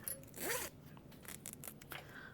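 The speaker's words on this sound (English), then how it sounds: "I'm going to attach my zipper pull" Zipper pull being threaded onto a zipper while sewing a tote bag, a close, quiet series of short zipping rasps and small clicks, with one longer pull near the start and no talk.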